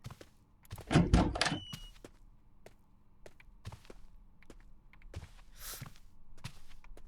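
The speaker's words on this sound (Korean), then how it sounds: "뭐야 뭐 발소리 들린데?" Footsteps in a Korean horror video game land as a series of dull, thudding steps at an irregular pace, after a loud heavy thump near the start, with no talking over them.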